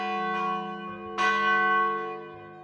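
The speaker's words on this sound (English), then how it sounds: "the largest bell of the Basilica located on the west tower is La Campana Grande" Large Basilica church bells, including the great west-tower bell La Campana Grande, ring with two strong strikes whose long, rich, layered tones hang and decay, close and loud with no voices.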